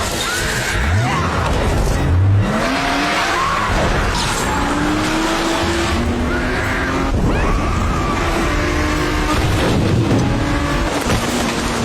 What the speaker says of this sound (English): They sped away in a car, but Jeff was going too fast